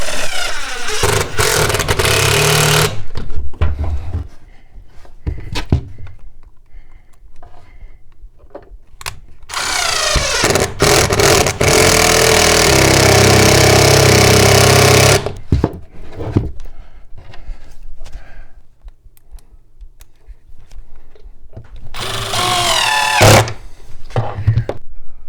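A power drill drives a screw into a wall stud while a cabinet is secured, in loud close bursts of whirring and grinding separated by quieter pauses, with a final short burst near the end.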